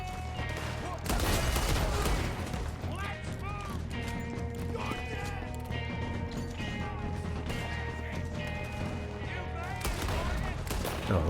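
Bursts of gunfire in the video game Red Dead Redemption 2, rapid machine-gun volleys and scattered shots crackling over a busy battle mix, loud and nearly continuous, with heavier salvos near the start and the end.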